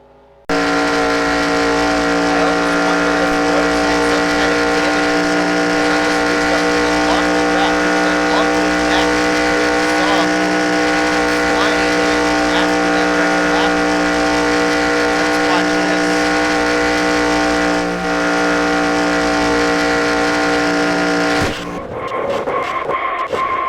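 An Indycar racing at Indianapolis in a video game, its engine held at full throttle in a loud, steady high-pitched whine for about twenty seconds, then cutting off sharply near the end.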